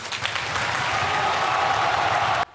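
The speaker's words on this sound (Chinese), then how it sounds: "就是这段话引发天安门广场上长达23秒，几乎是全场最长的掌声。" Sustained applause from a vast crowd in Tiananmen Square, a dense, even roar of clapping filling the air before cutting off abruptly.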